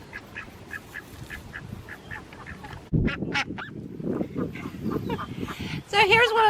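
Runner ducks quack in a run of short, repeated calls at close range, becoming louder and busier partway through, with a higher honking call at the end.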